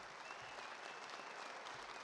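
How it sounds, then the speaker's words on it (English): An audience at a university Hall of Fame ceremony applauds the inductees, with dense steady clapping that sounds somewhat distant throughout. "Let's give all these inductees a great round of applause."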